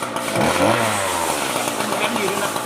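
A used Japanese string grass trimmer engine runs with a steady, buzzing drone throughout, close by, while people talk over it.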